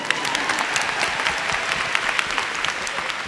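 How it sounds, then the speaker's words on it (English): A stage audience at a live Tom Felton appearance breaks into sustained applause, a thick wash of many hands clapping steadily for over three seconds, fairly loud and without talk. "Round of applause, please."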